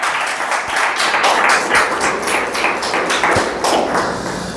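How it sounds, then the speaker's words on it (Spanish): A church congregation applauds during a Sunday morning service, a dense, sustained wash of clapping hands with occasional thumps, filling the room at an even volume for several seconds. "Dale un aplauso al Señor, aleluya."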